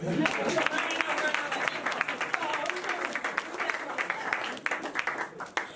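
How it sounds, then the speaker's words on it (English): Steady applause from an audience, dense clapping that keeps going for several seconds and fades slightly toward the end. "we need to give that a clap"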